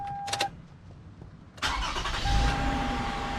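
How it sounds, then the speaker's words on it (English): A 2009 Toyota Sienna minivan engine cranks briefly and catches, settling into a steady idle that continues to the end, with a faint tone and clicks before. "So I'm going to start up the vehicle."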